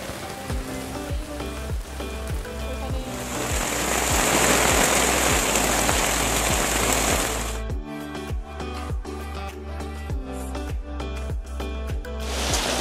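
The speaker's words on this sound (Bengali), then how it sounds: "এখন তো এটা মনে হচ্ছে আরও ভারী বৃষ্টি হচ্ছে" Heavy rain pours down in a steady, loud hiss, swelling in the middle and easing slightly toward the end, with regular rhythmic knocks running underneath and no voices.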